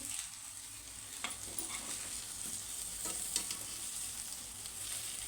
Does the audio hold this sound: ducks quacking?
no